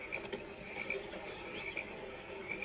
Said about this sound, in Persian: صدای قورباغه رو گوش میکنی؟